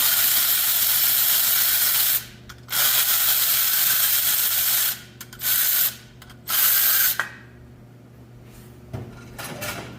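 Primary clutch bolts come off a 2024 Polaris RZR 1000 XP in loud, harsh mechanical bursts. A long run is followed by several shorter spurts separated by quiet pauses, close to the listener.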